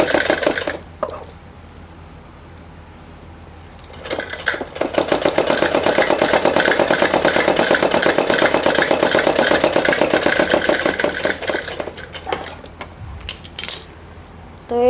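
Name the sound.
sewing machine stitching salwar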